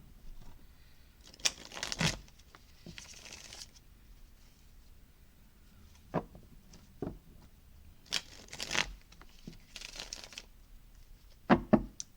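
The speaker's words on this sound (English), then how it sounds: "Let's go ahead and shuffle up the Witch's Tarot." Witch's Tarot cards shuffled by hand, scattered soft slides and crisp riffle bursts at irregular intervals, quiet and close, with no voices.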